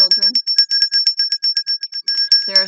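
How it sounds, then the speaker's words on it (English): A small hand bell rings rapidly in a steady run of bright, clear strikes for a few seconds, with a voice talking briefly before and after the ringing. "Quick bell ringing for the children."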